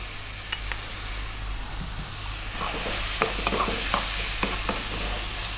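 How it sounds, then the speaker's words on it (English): Turmeric, chili and coriander powders frying in a hot pan for egg curry, a steady sizzle with repeated sharp spatula scrapes and clicks growing busier and louder in the second half. "Stirring pretty much all the time now. We don't want our powders to burn."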